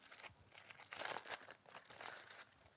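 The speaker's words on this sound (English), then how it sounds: "We'll open them up from the foil." Baked potatoes being unwrapped from aluminium foil give soft, close crinkling and crumpling in irregular bursts, faint but continuous for a few seconds, with no talking.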